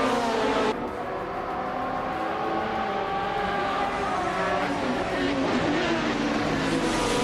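A Maserati MC12 GT1 race car engine drones loudly in a racing video game, a sustained high-revving roar with layered harmonic whine and slight pitch shifts throughout.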